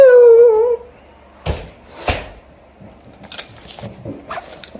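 A pet dog whimpers with a high, wavering whine at the front door as its owner comes home, followed by quieter scuffling, jangling and sporadic yips.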